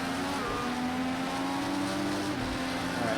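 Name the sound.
IndyCar engine downshifting into a corner, Project CARS 2 video game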